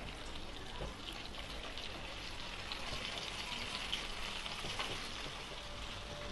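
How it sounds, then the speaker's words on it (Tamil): Fish shallow frying in oil in a pan for Kerala fish molee gives a continuous soft sizzle and crackle, low and even throughout, with no voices. "நல்லா ஸ்லோவில் வச்சு ஃப்ரை பண்ணுங்கள். ஷாலோ ஃப்ரை தான்"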